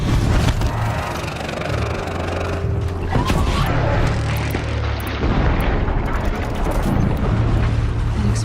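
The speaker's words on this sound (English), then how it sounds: "An explosion." Explosion in the video game Horizon Zero Dawn amid battle, heavy booming blasts and rumbling mechanical noise with a sharp burst near the middle, followed by sustained roaring debris and low drones.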